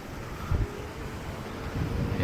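Cold wind blowing across a microphone during a delivery ride on a sunny street, a low steady rumble with a few harder gusts, close and continuous.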